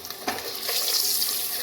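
Eggs fry in hot oil for egg dum biryani, a steady close hiss and sizzle with faint crackles throughout, no speech.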